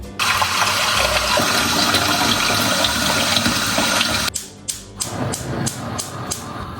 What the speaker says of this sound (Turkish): Şimdi şuna suyumu koyuyorum.